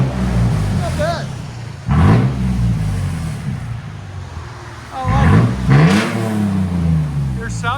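A 2007 Toyota FJ Cruiser with a 4.0L V6 and straight pipes after a muffler delete, revving in heavy rain; two loud rising revs stand out over a steady idle rumble, with a voice talking in between.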